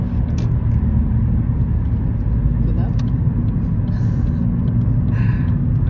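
A car drives along the road toward Kyiv, a steady low engine and tyre rumble filling the interior with no letup, with faint passing traffic noises on top.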